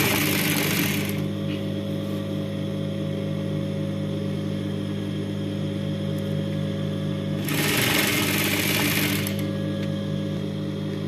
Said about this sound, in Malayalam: അതുപോലെ മുകളിൽ വരെ ഇങ്ങനെ സ്റ്റിച്ച് ചെയ്യണം